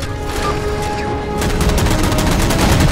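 Sustained gunfire in the video game Halo 4 as jammers are shot down, a loud dense fusillade of rapid shots that swells a little louder partway through and runs without pause over a rumbling game background.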